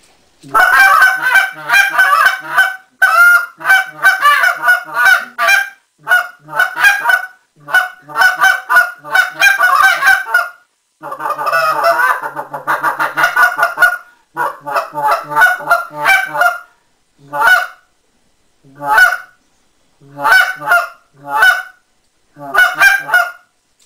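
Hunters blow goose calls imitating real geese during late-season hunting, a loud run of repeated honks and clucks in quick bursts, then slowing to spaced single honks near the end.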